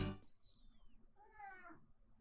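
A cat meows a couple of times in a drawn-out, wavering tone, fairly faint and close, with no talking over it.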